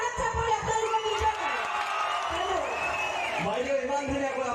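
A live-show crowd at a concert in Kukurmara roars with cheers, whoops and shouted voices, a dense, steady wall of noise with rising and falling yells throughout.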